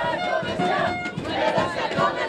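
Rugby crowd at an R.C.B.B. versus Hasparren match cheering and shouting steadily as a player leaves the field, a dense, continuous roar of many voices throughout.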